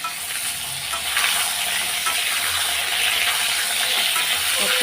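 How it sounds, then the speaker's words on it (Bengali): Potatoes frying in a pan with cumin that has already browned, giving a steady, dense sizzle that holds evenly throughout at close range, with no talking. "এখন আমি দিয়ে দেবো আলুগুলো এই যে আলু আলুগুলোও দিয়ে দিই আলুগুলো একটু লাল লাল করে ভেজে নেব"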